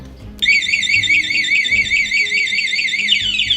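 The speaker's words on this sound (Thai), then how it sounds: "นี่คือล็อกแบบมีเสียงครับคือคนมาโดนขยับรถได้รถเรานะครับก็จะมีเสียงร้องเตือนก่อนนะครับ" Anti-theft alarm on a 2017 New Yamaha R15 motorcycle, wailing in a rapid warbling electronic siren that starts suddenly and holds loud and steady, then dips near the end.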